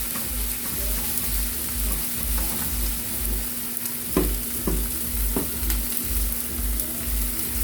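Onions fry in oil in a pan with a steady close sizzle and crackle, a few sharp pops and clicks from stirring cutting through near the end.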